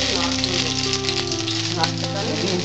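Grated coconut frying in oil in a pan, a steady broadband sizzle that runs unbroken and fairly loud throughout, with a low tonal hum underneath and no talking.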